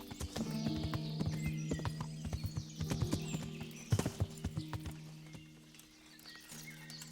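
Horse hooves clip-clopping in Kingdom Come: Deliverance, a steady rhythmic run of close, loud hoofbeats over a constant low ambient hum, with a brief pause near the end before the steps resume.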